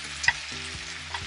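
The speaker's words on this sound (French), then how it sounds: "Maintenant, j'ajoute le poivre et l'ail." Pepper and garlic sizzle in a hot pan for spinach sautéed with ribs, a steady frying hiss with a couple of quick stirring scrapes, close up and alone.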